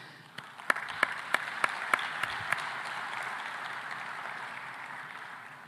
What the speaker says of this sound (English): A warm round of applause for everyone and the leaders that we currently have that are pushing